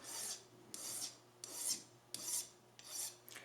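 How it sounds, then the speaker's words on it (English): A hand file rasps across a violin nut in five long one-directional strokes, each a loud bright scraping burst separated by short pauses, close up with a faint steady hum underneath. "right now, I want this file to be cutting"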